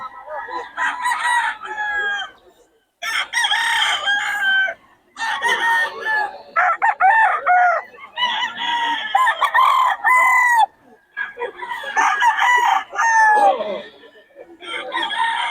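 Stag roosters crow repeatedly at a gamefowl market in Bocaue, loud overlapping cock-a-doodle-doo calls and clucks following one after another with brief pauses, close by.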